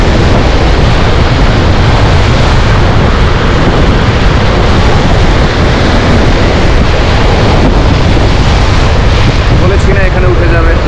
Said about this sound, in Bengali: বসে এই সমুদ্রের গর্জন শুনছি। বড় বড় ঢেউগুলো এসে আছড়ে পড়ছে